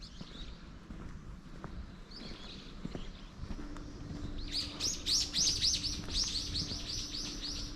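Several birds chirp in quick bursts, getting livelier partway through over a quiet outdoor background with a few soft footsteps.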